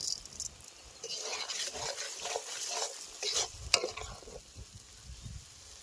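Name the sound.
spice masala being stir-fried in oil for achari chicken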